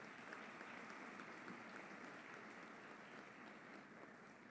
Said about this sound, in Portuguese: e uma salva de palmas para as mulheres